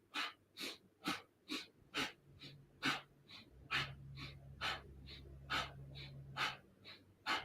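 Rhythmic human breathing during a yoga session, about a dozen soft inhales and exhales in steady alternation, close and fairly quiet, with a low hum underneath in the second half.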